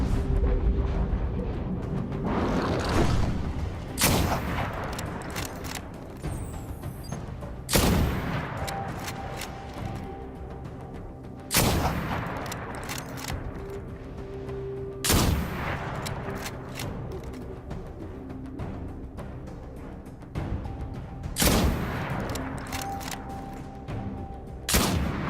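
Gunfire at targets in the video game Destiny: loud, separated single shots every few seconds, each a sharp boom with a decaying tail, over a continuous game soundscape.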